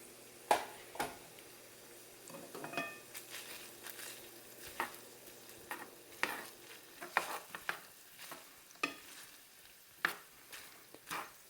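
Sloppy joe mixture in olive oil, stirred around a pan: a steady low sizzle under repeated scraping strokes of a spoon, irregular and close, with no talk.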